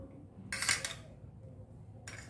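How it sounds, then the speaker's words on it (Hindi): Cutlery and dish clinks as cashew mint green gravy is poured with a utensil over soft, non-fried malai kofta, two short bright metallic bursts over a faint background. "अब इसके ऊपर हम ग्रेवी डालेंगे।"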